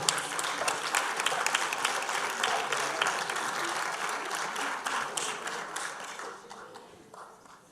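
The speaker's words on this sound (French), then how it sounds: "on vous applaudit aussi très fort" A conference audience at a French elder-care autonomy day applauds loudly and steadily, the dense clapping tapering off toward the end.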